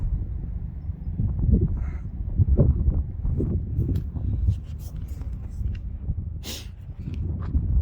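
A big crow caws a few times near a hiking trail in the Los Angeles area, with footsteps and gear rustling close by and some talk mixed in.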